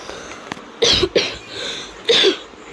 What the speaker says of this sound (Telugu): కాఫ్ ఉంది గాయస్, పట్టించుకోకండి.